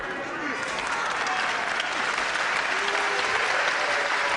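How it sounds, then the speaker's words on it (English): A crowd at a professional wrestling bout between Wayne Bridges and Lee Bronson applauds steadily, a dense and sustained round of clapping heard from within the hall, with a commentator's voice talking faintly underneath. "Bridges certainly got a good round of applause for that tremendous lift"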